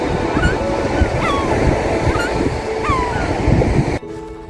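Sea waves on the Dorset coast in winter, a continuous wash of surf mixed with wind buffeting the microphone and faint gull-like cries above, ending abruptly in a quieter moment.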